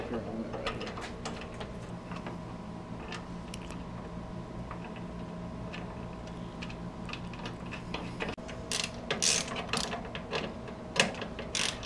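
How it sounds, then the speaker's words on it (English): Bolts being snugged down on a Polaris 570 crew door during installation: scattered ratcheting clicks and light metallic taps over a steady low background hum, with a louder cluster of clicks near the end. "We're just going to snug these up for right now to allow for any kind of adjustments later"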